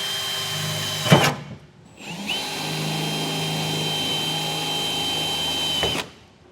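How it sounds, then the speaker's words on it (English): A power drill with a 1/8 inch bit whirs steadily for several seconds after a short burst and brief pause, close and fairly loud, then stops abruptly, drilling holes while installing a fifth wheel hitch on a 2019 Ram 2500. "Now I'll take the 1/8 inch drill bit and get these all drilled out."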